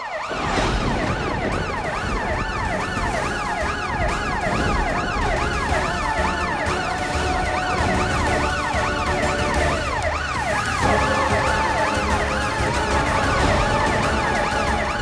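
A loud wailing ambulance siren cycles continuously, rising and falling in steady sweeps, with traffic noise underneath and no voices.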